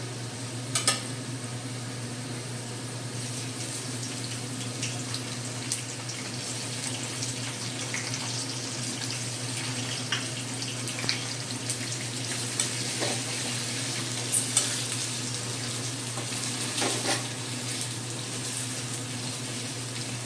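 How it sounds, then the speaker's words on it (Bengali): Sliced onions and potatoes fry together in a pan with a steady, even hiss, broken now and then by faint clicks of stirring. "আলুর সাথে পেঁয়াজটা আমি 2-3 মিনিট ভেজে নেব"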